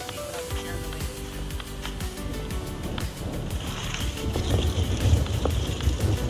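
Wind gusting across an open fishing spot by the water, a steady broadband rush with microphone buffeting that grows stronger toward the end, with no talking.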